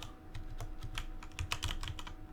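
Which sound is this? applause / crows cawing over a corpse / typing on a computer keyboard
typing on a computer keyboard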